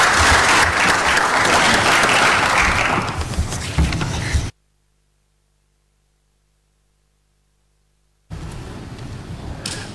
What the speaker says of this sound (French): Je vous remercie de l'encourager avec vos applaudissements